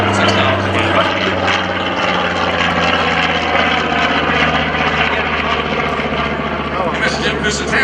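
A World War II B-25 bomber's piston engines drone loudly and continuously during an airshow flight, a deep steady propeller roar with a commentator's voice over it.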